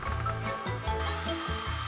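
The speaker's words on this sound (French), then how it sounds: "elle fait la bonne vieille astuce du sèche-cheveux" A hair dryer blows steadily and fairly loud in a home setting, its airflow whooshing continuously with a low motor hum and small shifts in pitch throughout.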